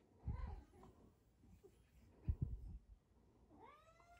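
A domestic indoor cat gives a couple of quiet meows, faint and close, with soft rustling in between.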